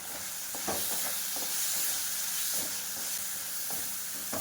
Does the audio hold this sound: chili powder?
yes